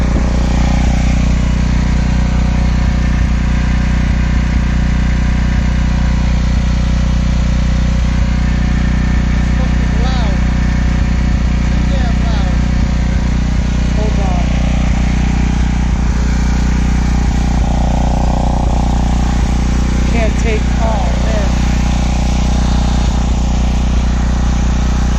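A portable generator runs loud and steady without its quiet box, giving a constant engine drone that fills the clip, with brief popping backfires breaking through now and then.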